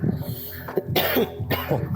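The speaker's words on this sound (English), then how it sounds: "He's got some cough, some sore throat." A man coughs several times in short, harsh bursts, close and fairly loud, with some throat clearing between.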